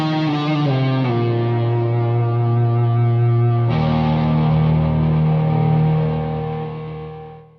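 Distorted electric guitar runs through a Marshall JTM 45 clone and a Tweed Deluxe amp together, playing sustained, ringing chords with a change partway through and a swell of effects before fading at the end.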